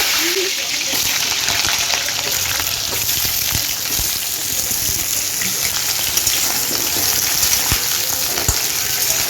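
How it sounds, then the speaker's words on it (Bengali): Potatoes frying in hot oil for a Bengali mutton dish, a loud steady sizzle with frequent small pops and crackles, close throughout. "এই আলুগুলো তেলের মধ্যে ভেজে নেব"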